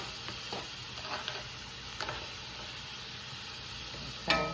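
Chopped onion and tomato for an egg omelette sizzle softly in a hot pan, a steady moderate fry punctuated by a few clicks of stirring and one sharper clatter near the end, nearby with no speech.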